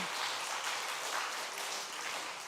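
Church congregation applauding during a Sunday afternoon service, a dense, continuous wash of many hands clapping that fills the room at moderate volume with no talking over it.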